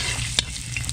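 Ginger sizzles and is stirred in hot oil for a fish steak dish of grouper, a dense close frying hiss with a sharp utensil scrape partway through.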